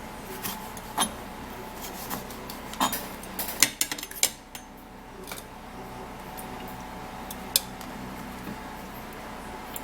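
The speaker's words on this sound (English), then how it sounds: "So I'm going to be cutting it into tiny pieces." Sharp knife taps against a cutting board while chopping a pepper into tiny pieces, scattered irregular chops, some clustered in quick bursts, over a low steady background hum.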